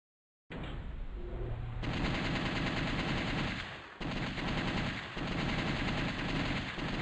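Sustained, rapid gunfire from The House of the Dead arcade shooter on PC, loud and continuous for several seconds with only brief breaks, and no talking.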